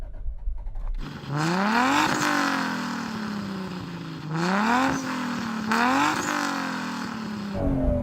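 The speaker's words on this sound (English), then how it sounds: "So I'm going to rev up this 2JZ." A Toyota Supra MK4 with a 2JZ engine is revved up hard nearby, loud and alone: three rising surges climb in pitch, the last two separated by quick blips before each one falls away.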